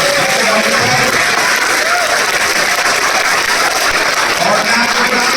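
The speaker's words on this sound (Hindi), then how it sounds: "मैं चाहूंगा एक बार जोरदार तालियां" A large audience gives sustained, loud applause with some crowd noise, a dense unbroken wash of clapping lasting throughout.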